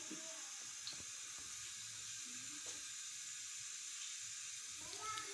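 Egg-dipped aloo tikki frying in hot oil, a steady soft sizzle running throughout with a few faint clinks and stirring sounds.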